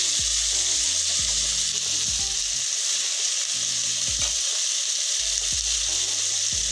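Loud, continuous sizzling of chicken frying in a hot pan over lowered heat, with occasional clunks of stirring and no talking.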